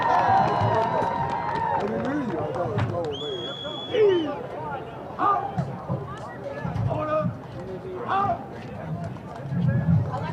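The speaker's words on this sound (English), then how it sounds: "How about one more round of applause for our veterans?" A stadium crowd at a 2022 playoff high school football game between Midwest City and Piedmont cheers and applauds for veterans, a broad, steady wash of noise with bursts of voices and occasional shouts.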